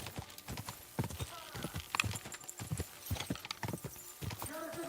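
Rapid galloping hoofbeats from a horse in the medieval game Kingdom Come Deliverance 2, a quick pounding rhythm with snorts and occasional whinnies, overlaid by frantic shouting voices.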